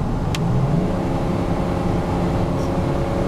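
A truck engine drones loud and steady as it shifts back into overdrive, heard from inside the cab as a continuous rumble with no talking.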